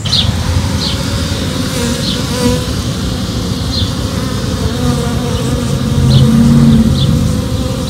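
Dense, steady swarm buzz of bees in a tree during smoke removal, loud and continuous throughout with occasional higher insect whines passing close, no talking.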